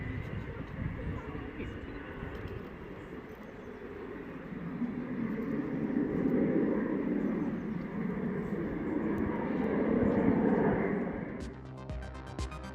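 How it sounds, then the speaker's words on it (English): A Fuga Zephyr training aircraft powers up to take off again after an aborted landing, its broad engine roar swelling and holding steady at a distance, with faint voices underneath. "So the plane had to take off again."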